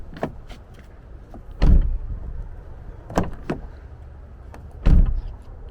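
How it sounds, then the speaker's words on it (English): A sound-deadened door on a 2019-or-later Ford Ranger is worked by its handle, giving three solid, muffled thunks spaced about a second and a half apart over a quiet steady background, with faint handle clicks between. "Even the actual door handle, when you pull it open and close it,"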